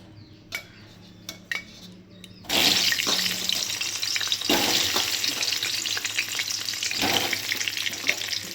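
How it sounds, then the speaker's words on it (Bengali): Potatoes drop into hot oil in a wok. After a few quiet utensil clinks, a sudden loud sizzle erupts and keeps going as a steady crackling fry, with occasional stirring scrapes. "এবার আলুগুলো দিয়ে দেবো তেলের মধ্যে।"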